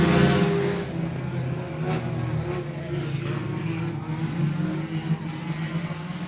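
Race cars roar together around a speedway track after the green flag, a dense continuous engine drone that swells and recedes as the pack passes, with no one talking.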